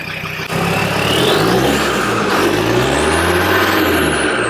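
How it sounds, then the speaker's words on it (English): A Land Rover engine starts low, then revs up and down through several rising and falling sweeps, loud and close, with no talking. "Let's see if we can get him to give it a little rev."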